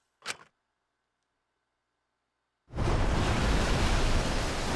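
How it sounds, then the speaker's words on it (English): A torrent of water full of piranhas floods out in a video game scene, a short sharp burst followed by silence, then a sudden loud, dense rushing roar that holds steady to the end. "The sound was intense, as waves of piranhas and water, dyed with pink with blood, rushed out."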